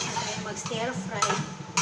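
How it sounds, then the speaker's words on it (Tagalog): Vegetables stir-fried in a pan, with close scraping and stirring strokes and light clinks of a utensil against metal over a soft sizzle, repeated quickly in a short burst. "So, tayo mag-stir fry."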